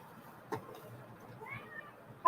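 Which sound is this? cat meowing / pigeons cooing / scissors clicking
cat meowing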